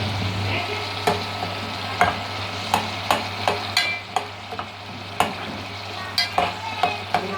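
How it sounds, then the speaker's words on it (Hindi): Tomatoes are mashed and stirred in a frying pan while cooking charsi karahi: a steady sizzle runs underneath, and a spoon knocks sharply against the pan again and again in an irregular rhythm, all close up with no talking. "टमाटर को इसको हम मैश कर लेंगे।"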